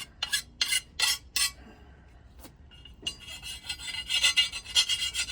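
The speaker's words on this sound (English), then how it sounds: "take my file at the end and just clean up the backside for any burrs that might have happened from the angle grinder" A hand file rasps along the back edge of a steel push-mower blade to clear burrs left by angle-grinder sharpening, in a few distinct close strokes, then quieter scraping and rubbing.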